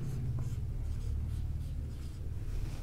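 Chalk or marker writing on a board during an art lesson, steady scratchy strokes running throughout over a low background hum, with no talking.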